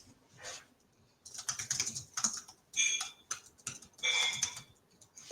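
Bursts of rapid clicky typing on a computer keyboard, close and fairly quiet, in uneven flurries with short pauses between.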